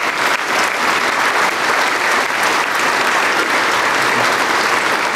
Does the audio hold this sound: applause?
yes